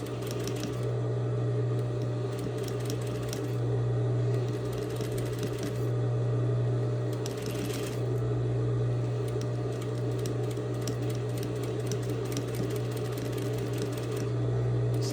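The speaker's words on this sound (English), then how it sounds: "stitching and back stitching" A sewing machine stitches and backstitches a seam, running steadily and close with a continuous mechanical hum and rapid needle clatter throughout, no voices.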